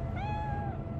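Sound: cat meowing in Cyberpunk 2077 video game

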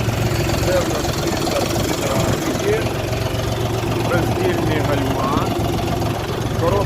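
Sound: Dongfeng 244 tractor engine running

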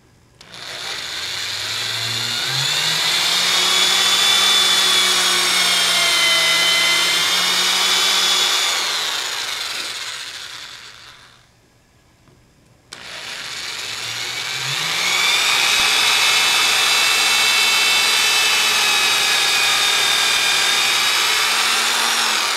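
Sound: power drill drilling mounting screw holes in guitar body

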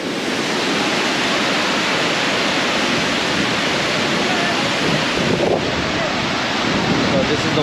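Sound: Thiruparappu waterfall

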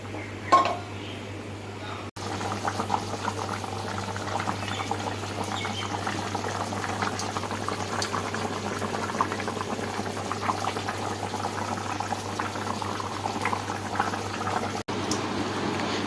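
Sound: meat boiling in water in a cooking pot

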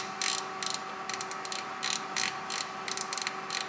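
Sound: oven timer dial being set to 25 minutes

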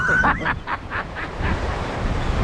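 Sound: stormy sea waves and wind

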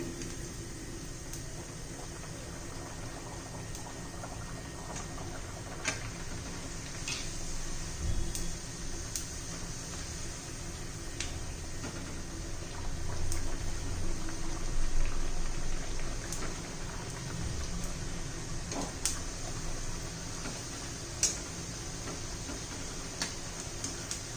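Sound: deep-frying puris in hot oil

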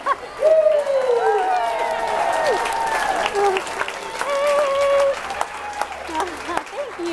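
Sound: crowd applauding at a home and garden show

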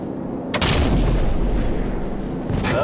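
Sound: gunship firing on enemies in video game Call of Duty 4

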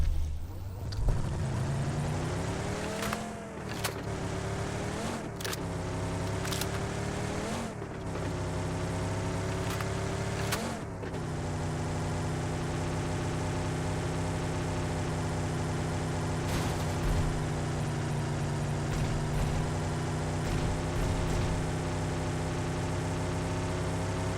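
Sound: car engine driving in PUBG video game

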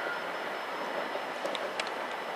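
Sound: train at Clapham Junction station platform

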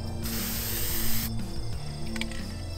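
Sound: generic spray paint sprayed for one second

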